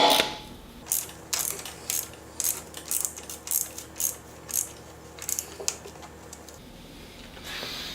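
A ratchet tightens a 15 mm bolt on the alternator of a Porsche 996, giving a close series of quick clicking bursts in a steady rhythm that stops near the end, with no talk.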